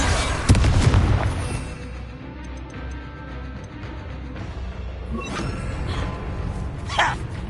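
Spell explosions from Confringo and Bombarda in the Hogwarts Legacy video game: a loud, deep boom bursts out near the start, then a rumbling, crackling tail fades under scattered game effects.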